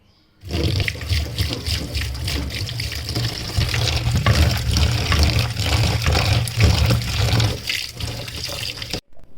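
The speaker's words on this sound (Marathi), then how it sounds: "पाण्याने चांगली स्वच्छ धुवून घ्यायची" After a brief quiet start, a tap runs strongly over wild leafy greens in a sink, water splashing continuously until it cuts off at the end.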